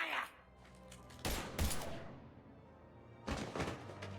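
Gunfire in Mass Effect 3: several sharp bursts of shots, separated by short pauses, over a low ambient hum, with a voice briefly heard.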